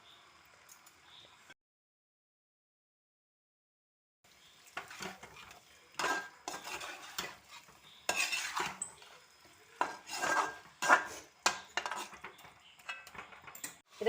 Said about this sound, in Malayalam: ഇനി നമുക്കിതിലേക്ക് ചതച്ച് വെച്ചിട്ടുള്ള ഇഞ്ചി ഇട്ട് കൊടുക്കാം. എന്നിട്ട് ഇത് വീണ്ടും നല്ല പോലെ ഇളക്കി കൊടുക്കാം കേട്ടോ